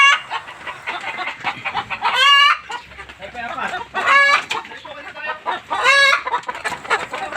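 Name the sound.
Rhode Island chickens clucking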